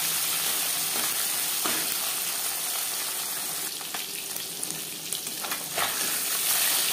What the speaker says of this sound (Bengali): অল্প অল্প করে ভাজলেই ভাজাটা ভালো হবে।